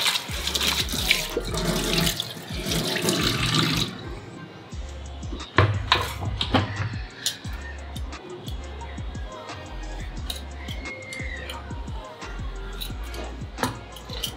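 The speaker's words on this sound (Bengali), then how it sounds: "আসো, এটা ধুয়ে নি চপিং বোর্ডটা।" Running tap water splashes over a chopping board being rinsed in a kitchen sink, a loud steady gush at first, then quieter trickles and clatter as the board is handled.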